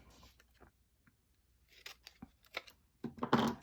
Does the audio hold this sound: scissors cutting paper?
yes